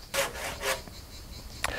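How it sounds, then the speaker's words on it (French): A few short rasping hand-saw strokes trimming the end of a log, two strokes then a quick third, close and fairly quiet. "taillez les extrémités à la scie aiguille"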